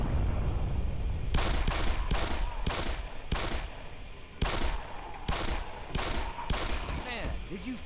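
Rapid bursts of video game gunfire crack out in a steady volley, loud and close, with sharp repeated shots spaced about half a second apart under a constant background rumble.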